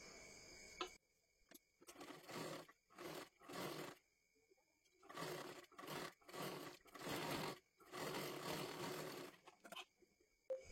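An electric sewing machine stitches a sleeve in repeated bursts, some short and some long, separated by brief silences, close and loud with no talking.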